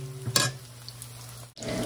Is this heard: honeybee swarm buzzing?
no